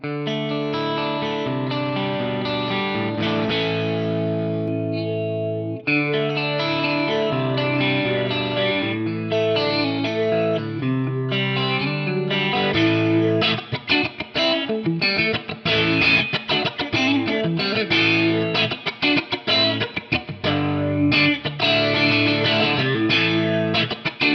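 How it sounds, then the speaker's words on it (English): Electric guitar run through a sweeping envelope formant filter on a Korg AM8000R rack unit, giving a vocal, wah-like quack to each chord; sustained at first, then choppier rhythmic strumming, loud throughout. "Let's hear this kind of formant filter."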